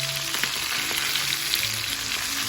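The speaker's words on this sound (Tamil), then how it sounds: "இந்த ட்ரெடிஷ்னல் மெத்தடில் ஃப்ரை பண்ணுறது" Masala-coated koduva fish frying the traditional way in hot oil gives a dense, continuous close sizzle with small pops and crackles throughout.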